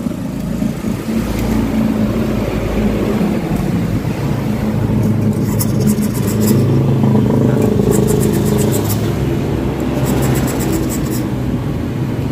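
A faulty motorcycle engine that bogs down when throttled runs roughly and revs unevenly, with clattering mechanical noise and sputtering bursts throughout, loud and close.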